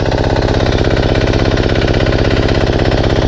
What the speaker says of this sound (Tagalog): Bumalik sa dati yung ating makina.